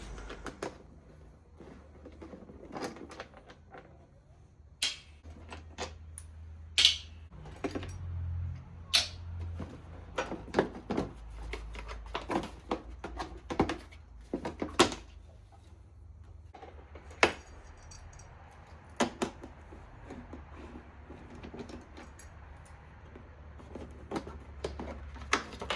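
Plastic side covers and mud guard coming off a Yamaha T7 motorcycle: scattered sharp clicks, snaps and knocks at close range, irregular and spread through the clip over a low steady hum, with no talking.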